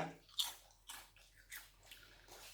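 Thin, flat Lay's potato chips are bitten and crunched up close, with a sharp first crunch followed by several softer chews at a steady pace, no talking.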